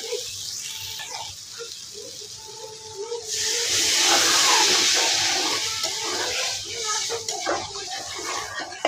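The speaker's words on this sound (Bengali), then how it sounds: "এখন জল দিয়ে নেব।" Water poured into a pan of sautéed potatoes and soybean chunks, a broad hissing, rushing pour swelling in the middle and easing off, with cooking clatter and a voice talking around it.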